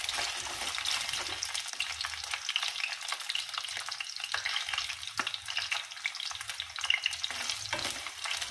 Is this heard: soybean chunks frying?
yes